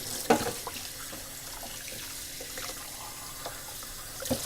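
Thawed calamari is rinsed under a running tap, a soft continuous stream of water with a few light splashes and knocks, faint and close, with no talking.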